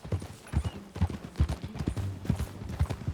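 Horse hooves clip-clop in Red Dead Redemption 2, a quick irregular trotting rhythm of close, soft thuds with faint game ambience around them.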